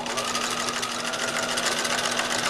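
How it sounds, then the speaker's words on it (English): A sewing machine top stitching runs continuously at a steady speed, with a close, even mechanical whir and rapid needle chatter and no voices. "We're sewing!"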